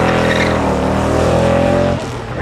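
Wayne Gersikovsky's Holden FC sports sedan with a 5.7 litre V8, racing at the Leyburn Sprints, roars loudly in a steady high-revving drone that drops off abruptly near the end.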